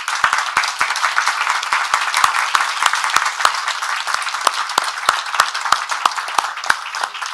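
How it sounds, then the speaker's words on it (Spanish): A seminar audience applauds human rights defenders in Colombia, steady dense clapping with sharp individual claps standing out, continuous and fairly close throughout with no voices. "Pido un aplauso para los defensores y defensoras de derechos humanos."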